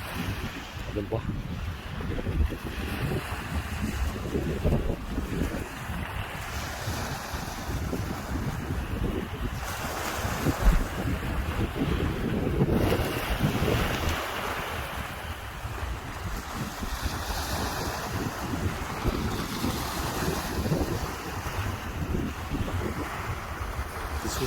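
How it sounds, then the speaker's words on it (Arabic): Sea waves and steady wind on the beach at Ain Sokhna, near the Suez Canal, with a ship offshore: a continuous, loud rush of surf and wind buffeting the microphone throughout, with some voices. "ده البحر."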